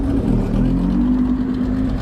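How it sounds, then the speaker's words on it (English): A Dodge Viper in Martini livery rolls in at a car show, its engine a steady, loud, close low rumble held for about two seconds without talk. "Martini liveried Viper rolling in"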